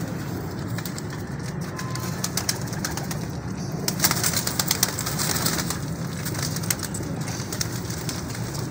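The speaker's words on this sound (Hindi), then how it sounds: "ये एक और कबूतर है जी, बड़ा माशाल्लाह खूबसूरत कबूतर है" A pigeon at a fancier's loft gives low, repeated cooing over a steady background, with scattered clicks and rustles from nearby birds.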